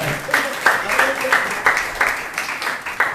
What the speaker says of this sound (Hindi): क्यों ना अंकल के लिए भी एक जोरदार ताली हो जाए